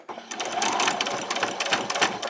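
A sewing machine runs steadily while stitching a summer top, a continuous close whirring buzz with rapid needle rhythm that lasts nearly the whole moment after a brief quiet start.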